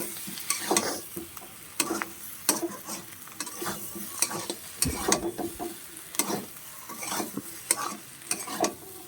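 Potatoes fry in oil for vegetarian aloo dum while a spoon stirs and scrapes the pan, producing repeated scraping strokes over a continuous sizzle, close and clear, with no talking.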